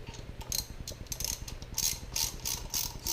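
A ratchet snugs down the water pump bolts on a Jeep Wrangler JK 3.8L engine, giving a rapid, steady run of close pawl clicks with short pauses between strokes and no talk.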